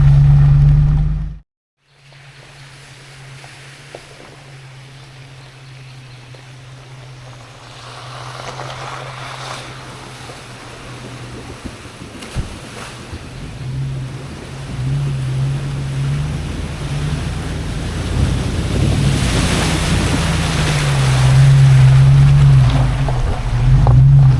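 A vehicle fords a creek crossing in the North Georgia mountains, its engine droning steadily while rushing, splashing water builds louder toward the end after a brief cutout at the start.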